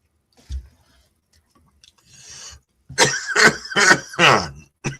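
A sharp single cough, then a pause and a burst of several harsh, throaty coughs in quick succession, close and loud, with a faint rustle between.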